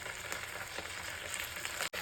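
Onions roasting in a pan with tomato sauce stirred in, a steady close sizzle and fry that cuts out abruptly just before the end.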